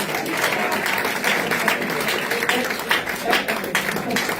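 A congregation applauds in church, steady crowd clapping throughout with some voices mixed in underneath.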